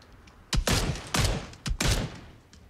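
Bursts of rapid gunfire in the video game PUBG crack in quick succession, loud and close, with short gaps between volleys.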